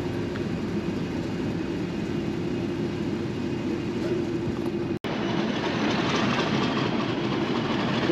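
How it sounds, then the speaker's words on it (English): Locomotive-hauled train on the Severn Valley Railway rolling past, a loud steady rumble with continuous wheel and carriage noise, brief cut midway, no talk. "What's that loco on the front of this?"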